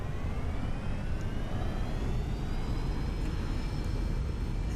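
Aircraft engine in the X-Plane 10 flight simulator spooling up for takeoff, a steady broadband roar with thin rising whine tones layered over it, continuous and fairly loud, no voices.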